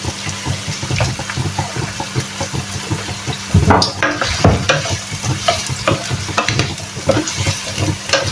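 Yellow pepper, celery and red pepper for caponata fry in hot oil, a strong sizzle under repeated stirring and scraping in the pan, louder after vegetables shift midway.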